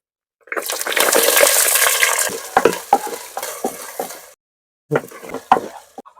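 Loud sizzling and crackling as fenugreek, curry leaves and small onions hit hot sesame oil, settling into softer spitting and stirring, then a brief silence before more sizzling.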